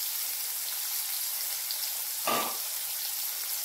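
Masala for a brinjal dish frying in a pan gives a steady, hissing sizzle throughout, with one brief scraping stir or clunk partway through.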